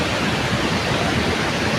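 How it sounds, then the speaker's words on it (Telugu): Jana waterfall near Manali, swollen after a night of rain, gives a loud, dense and unbroken roar of rushing water up close, with no voices. "మనం ఇప్పుడే జన వాటర్ ఫాల్స్ దగ్గరకు వచ్చాము"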